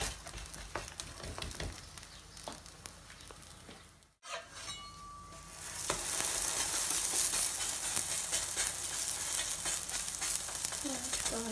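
A meat and vegetable filling for stuffed bread cooking in a pan, soft stirring and scraping at first, then after a brief break a louder, steady sizzle that holds to the end, no talking.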